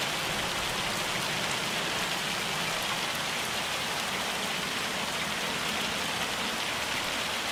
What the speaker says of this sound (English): When it stops hailing